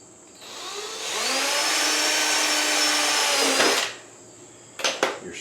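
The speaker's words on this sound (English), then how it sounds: "drill a hole for this to be mounted." A power drill whines steadily for about three seconds, close and loud, drilling a mounting hole in Suzuki DR-Z400S motorcycle plastic, then winds down, followed by a few short knocks and rattles.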